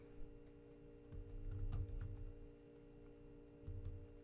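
Quiet keystrokes on a computer keyboard as terminal commands are typed, a short burst of clicks in the middle and a few more near the end over a steady electrical hum, with no talking.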